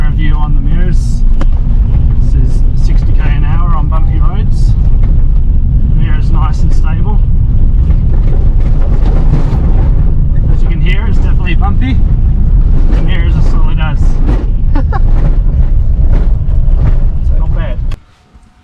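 Inside a Land Rover Discovery 3/4 with towing mirrors, driving at 60 km/h on bumpy, corrugated roads, a loud continuous low rumble and wind roar with rattles, and someone talking over it throughout until the sound cuts off.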